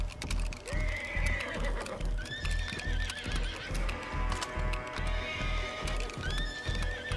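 A horse in a video game whinnies several times over steady clip-clopping hooves and mechanical game noise, loud and continuous throughout.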